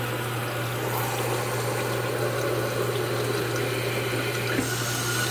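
Water drains from a Wet Head game toy with its pins pulled, a steady close rush with a low hum underneath and no talking.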